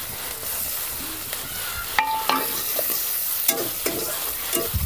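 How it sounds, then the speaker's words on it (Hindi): Chopped onion fries in hot oil for a Bengali-style mustard fish curry, giving a constant bright sizzle with scattered clicks and scrapes of a spoon against the pan. "अब तेल में हम डाल देते हैं एक प्याज कटा हुआ, प्याज का फोरन डाले हैं।"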